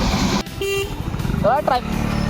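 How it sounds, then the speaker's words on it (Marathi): Road traffic on a busy village road: vehicle engines rumble nearby while several short horn toots sound in the middle, with people talking over the noise. "ट्रॅफिक लागले जाऊ द्या गाडी"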